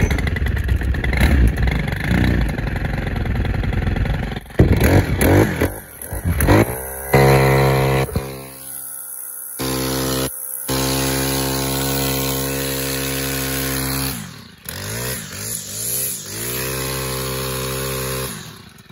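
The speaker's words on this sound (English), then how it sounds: "It's a good trimmer, runs good, pretty good power for the price point" Stihl FS-91R string trimmer engine sputtering, revving and cutting out in uneven bursts, loud and close, with brief gaps of silence between runs.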